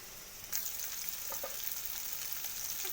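Cumin and ginger paste lands in a pan with fried chilies and turmeric, setting off a sudden, steady hiss of frying that stays even and close throughout.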